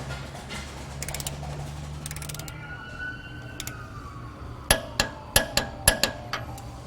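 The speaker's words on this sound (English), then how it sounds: "be sure and use a torque wrench on this part" A torque wrench tightens thin-wall shank nuts through a heim joint on the idler and pitman arm, with faint mechanical rattling early on, then a run of sharp, loud ratcheting clicks near the end.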